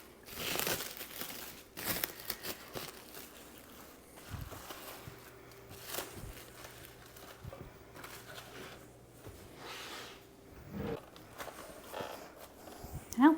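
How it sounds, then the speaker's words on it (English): Plastic wrap crinkling while being laid over bun dough in a home kitchen, irregular close rustles and crackles with quiet gaps between them, with faint background noise. "All right, cover them again with the plastic wrap."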